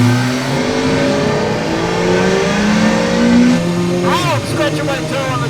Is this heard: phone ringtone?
no